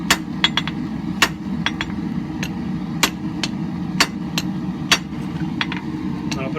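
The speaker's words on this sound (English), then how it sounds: "do a set down with the toe of my hammer on the edge of the anvil" Sharp metallic hammer strikes on wrought iron ring out on an anvil in an irregular rhythm, some in quick doubles, over a constant low rumble, while forging a knife by hand.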